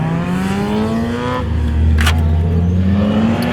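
A Nissan Altima's engine runs close by, its steady pitch climbing gradually as it revs, with a deeper drone building in the second half and a brief hiss near the middle.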